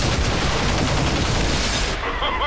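Dense, continuous gunfire in the video game XCOM 2, a loud unbroken crackling barrage that cuts off abruptly near the end.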